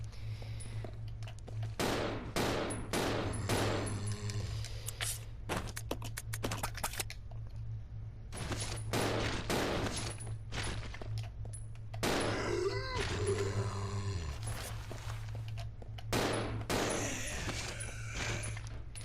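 Gunfire rings out in clustered bursts of sharp, repeated shots in the Resident Evil Zero video game, separated by quieter stretches over a low steady hum.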